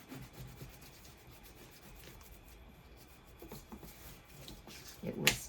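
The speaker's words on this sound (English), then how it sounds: "Lined up just how you want it, and burnish it down." Soft, faint rubbing strokes as paper pages are burnished down while assembling a handmade book, a quiet scratchy friction close by with a slightly sharper scrape at the end.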